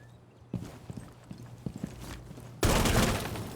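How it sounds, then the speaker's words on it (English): Rainbow Six Siege gunfire punches through a wooden wall as a few sharp, separate shots, then a sudden loud sustained burst of rapid fire near the end, close and punchy with no talking. "You can shoot through this kind of surface to take out a target on the other side."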